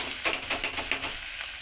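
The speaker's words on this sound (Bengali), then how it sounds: "ভাজা ভাজা করে নেব পেঁয়াজ দেখো অল্প অল্প ভাজা হয়ে গেছে আর এই যে দেখো আলু চিকেন সব একসঙ্গে আমি দিয়ে দিচ্ছি" Potatoes and chicken frying with onions in a pan give a steady sizzle, broken by a few brisk stirring scrapes near the start.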